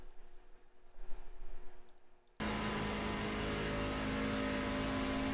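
Engine of a race truck at full throttle on a Michigan oval in a racing video game, a steady loud drone that cuts in abruptly after a quieter, muffled stretch and holds at constant pitch to the end.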